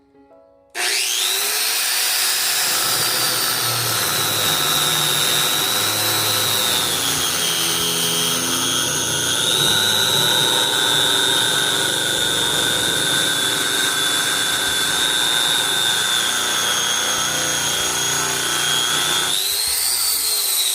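The grinding wheel of a porcelain tile cutting machine spins at full speed, pressed on a block, giving a loud, close, high-pitched whine that holds steady for nearly twenty seconds before stopping, with no talking.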